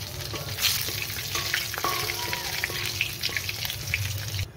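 Cardamom, cinnamon and bay leaves frying in hot oil give a steady close sizzle and crackle, with occasional stirring clinks running through the whole stretch and no talking.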